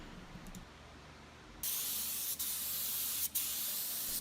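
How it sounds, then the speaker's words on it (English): A spray gun applies finish inside a walnut and cherry aquarium cabinet, a quiet lead-in giving way to a steady loud hiss that cuts out briefly twice before resuming. "After this, we removed the doors, and then I sprayed the cherry part on the inside here."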